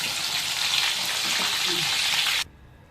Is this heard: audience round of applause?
no